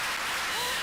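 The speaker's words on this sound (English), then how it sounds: "So I'd like all of us to stand and just give Andrew a round of applause" Dense, continuous applause fills a keynote session hall as the audience stands to honor a cyclist who rode from Uganda to Zambia, a brief wash of clapping with no breaks.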